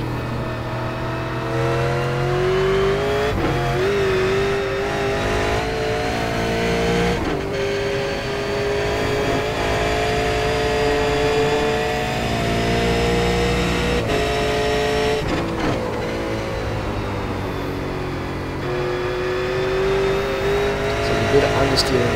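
A V8 race car laps Road Atlanta in the iRacing sim, its engine droning steadily with rising and falling revs through gear changes, slight tire squeal and downshifts, under continuous commentary.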